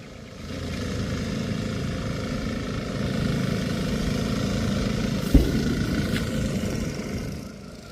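Two tractors plough a field, heard as a steady, continuous engine drone at a moderate distance, with one brief sharp knock partway through and no voices.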